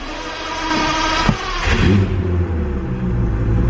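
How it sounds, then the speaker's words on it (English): Twin-turbo Lamborghini cold start: a starter crank and catch, then the engine flares loudly and settles into a deep, rumbling high idle, close by and without talk. "let's hop in the car, get a cold start"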